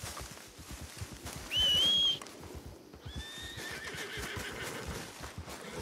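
A horse in Red Dead Redemption 2 whinnies loudly in a rising, wavering call, then a second fainter neigh follows, over a steady patter of hoofbeats.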